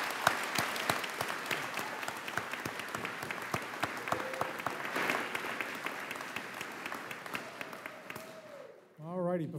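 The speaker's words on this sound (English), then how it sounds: "have another round of applause for all those recipients" An awards convocation audience applauds the recipients with steady, sustained clapping that fills the hall and fades out near the end, followed by a brief voice.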